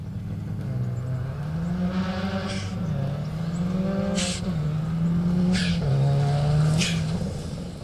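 A new Subaru WRX hatchback rally car racing on a gravel stage, engine revving up and down through gear changes with loud rising and falling pitch, passing close with occasional sharp bursts.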